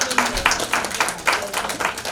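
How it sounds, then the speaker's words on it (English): Brief applause from an audience at a presentation, a loose patter of claps with a few louder bursts. "Please give her a round of applause."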